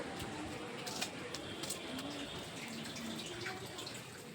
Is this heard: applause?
no